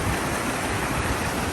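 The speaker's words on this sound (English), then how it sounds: "Here's the main sort of brook stream that comes through" Brook stream flowing beside a mountain trail on Mount Kosciuszko: a dense, steady rush of water fills the whole stretch evenly, close and constant with no other sounds.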